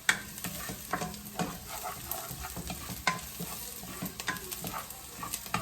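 Garlic sizzling in hot oil in a pan while a utensil stirs and scrapes it, with clear repeated scraping strokes over a steady close fry; no talking.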